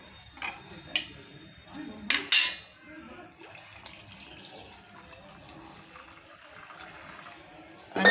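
Cold water is poured into a blended watermelon drink in a kitchen, with a few clinks of utensils followed by a soft, steady trickling pour.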